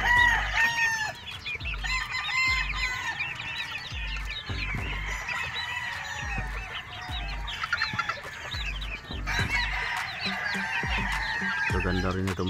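Gamefowl roosters and hens at a game farm crow and cluck over one another in a loud, busy chorus, with repeated crows rising above a steady background of clucking and soft thumps.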